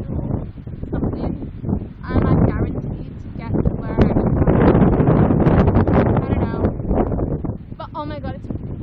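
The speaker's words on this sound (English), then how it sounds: "oh my god, it's fucking windy." Strong wind on La Palma buffets the microphone in heavy, continuous roaring gusts while a person talks through it.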